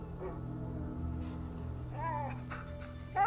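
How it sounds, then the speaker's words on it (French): A dog in the video game A Plague Tale: Innocence whimpers with thin, high, wavering whines over a steady low game ambience, with a brief whine followed by another near the end. "Ouais, le chien ne va pas bien."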